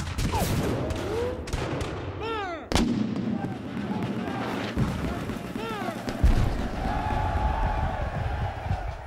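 Civil War reenactment at Shiloh with cannon artillery fire, a sharp loud blast near three seconds plus further booms and crackling gunfire amid shouting voices, bird calls and outdoor commotion.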